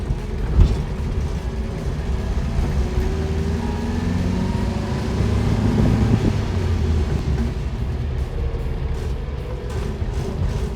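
A 1960 Nash Metropolitan drives along, its small engine giving a steady low hum for about ten seconds. Wind buffets the microphone throughout, and no one talks.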